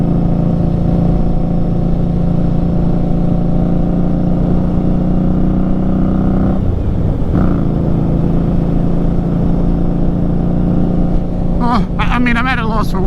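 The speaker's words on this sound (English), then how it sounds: "enjoy the sound of the bike and the exhaust" A 2018 Indian Scout Bobber motorcycle fitted with a Vance and Hines slash cut exhaust rumbles loud and close, with a steady engine drone, a short dip in the middle and faint talk near the end.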